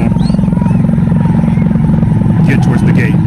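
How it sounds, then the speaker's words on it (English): Helicopters circle overhead near a gate where crowds, photographers and journalists gather. A loud, constant rotor thump pulses throughout beneath a person talking. "As you can hear in the background, there are helicopters circling over"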